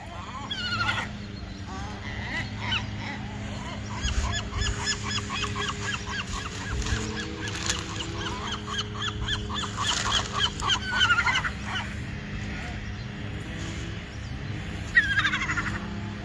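Seagulls at La Jolla Cove call repeatedly while being fed onion rye bread, with honking, squawking cries close by over a constant outdoor background rumble.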